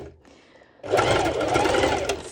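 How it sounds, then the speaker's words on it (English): A sewing machine sews a straight stitch on fabric for a pole dance top, starting after a brief quiet moment and then running in a steady, fast, close whir. "first I do this one straight stitch, and now I'm shortening my stitch."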